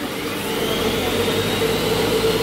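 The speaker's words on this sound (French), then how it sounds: "je vais mixer quelques secondes" A Monsieur Cuisine Smart food processor whirs loudly and steadily at speed, blending egg yolks and sugar in a continuous close roar.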